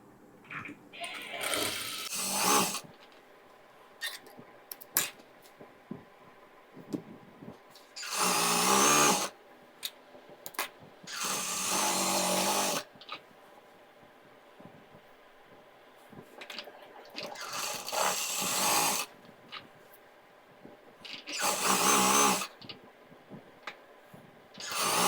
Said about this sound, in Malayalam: ഇങ്ങനെ മടക്കിയിട്ട് നിങ്ങൾ ഒരു സ്റ്റിച്ച് കൊടുക്കുക.